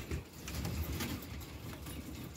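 Rare fancy pigeons of the Fee varieties (Pearl Fee, Pansy Fee, Falb Fee) in a farm loft, giving low, steady cooing amid a busy wash of background noise, close and soft, with no talk.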